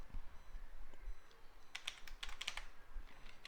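Someone types code on a computer keyboard, a quick burst of light clicking keystrokes in the second half over a low steady room hum.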